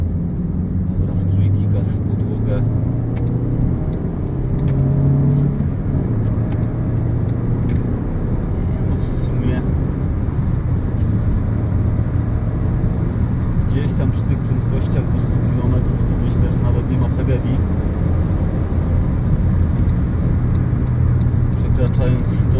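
A 2011 Fiat Punto Evo with a 1.2 petrol engine drives along a road, heard from inside as a steady low engine and road rumble, with someone talking over it throughout.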